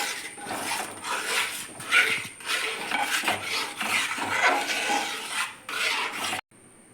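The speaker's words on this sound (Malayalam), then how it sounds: "മൈദയും അരിപ്പൊടിയും തേങ്ങാപ്പാലും കൂടെ മിക്സ് ചെയ്ത് ഇത് ഒഴിച്ചു കൊടുക്കുകയാണ്. അതിന് ശേഷം നന്നായിട്ട് ഇളക്കി കൊടുക്കുക." Jackfruit halwa batter of maida, rice flour and coconut milk being stirred in a pan, a continuous close scraping and swishing with uneven strokes, ending abruptly.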